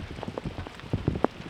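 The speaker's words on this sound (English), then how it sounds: "The rain's gonna get heavy again" Heavy rain pattering on a campsite, with scattered close drops tapping unevenly over a steady wash of rainfall.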